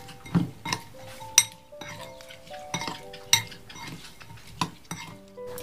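Shrimp are mixed with salt and turmeric in a bowl, giving light clinks and taps of utensil against dish in an irregular rhythm, with some ringing metallic tones, close and fairly quiet.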